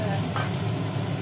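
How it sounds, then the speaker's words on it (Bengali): Onion and garlic fry in hot oil with a dense, continuous sizzle, close and steady for a moment. "পেঁয়াজ রসুন দিয়ে ভাজবে শাকের মতো করে।"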